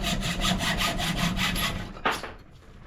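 Hand saw cutting a bicycle part held in a saw guide, close and fairly quiet, with about nine even back-and-forth strokes followed by a final scrape and a short pause.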